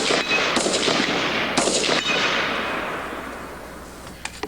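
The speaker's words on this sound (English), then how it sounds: "we're getting ready to shoot on rifle" Rifle shots fired from the prone position at a shooting match, a few loud, sharp cracks with long ringing echoes that fade across the range, close by, with no talking.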